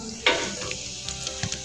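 A tadka of ginger, garlic, green chillies and crushed red chilli sizzles in hot oil, a steady close frying hiss broken by a sharp splattering burst as the ingredients go in, then light stirring and popping.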